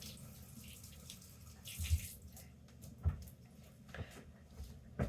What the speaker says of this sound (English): The cilantro, rinse it off so we don't have sand.